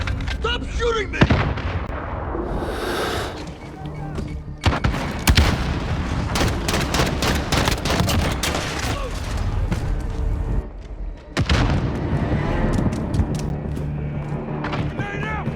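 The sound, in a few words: gunfire in video game Call of Duty Modern Warfare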